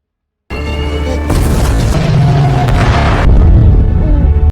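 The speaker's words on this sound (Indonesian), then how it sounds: "Ledakan besar mengguncang lautan" A heavy, rumbling blast erupts at sea and rolls on for several seconds, loud and booming with a dense low roar that swells toward the end.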